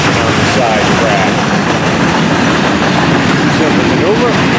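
FEC freight train 109 rolls onto a side track, a loud, dense, continuous rumble of wheels and cars close by, with faint clicking on the rails throughout.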